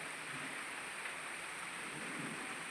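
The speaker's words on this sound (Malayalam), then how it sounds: "ഞാൻ ഈ ഒരു മഴ ചാറുമ്പോൾ നിങ്ങളെ കൂടെ ഒന്ന് കാണിക്കാമെന്ന് വിചാരിച്ചിട്ടോ" A steady, soft hiss of light summer rain falls continuously, even and unbroken, with no voices.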